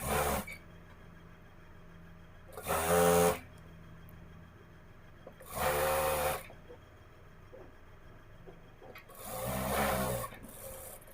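A sewing machine runs in three short bursts stitching the side seam of a dress, each run a loud, close, rapid mechanical whir separated by quiet pauses, no voices.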